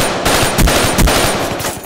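Heavy, booming gunshots from a shotgun in a first-person shooter video game sound in quick succession, loud and close, with no talk over them.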